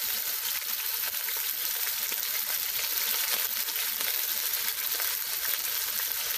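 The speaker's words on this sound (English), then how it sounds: "It is time to braise our beef chuck roast. what we're doing here is we're searing in the juices." Beef chuck roast searing in plenty of hot, smoking oil in a pot, a loud, steady close-up sizzle and crackle that holds without a break and has no voices over it.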